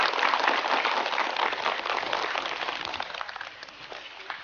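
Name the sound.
audience applause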